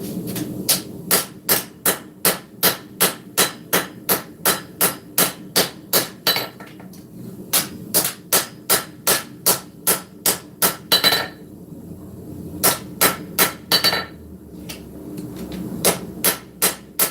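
Loud, evenly spaced hammer blows ring out while a steel cleaver blade is forged, keeping a steady rhythm with a couple of short pauses before the strikes resume, close and clear with no talk.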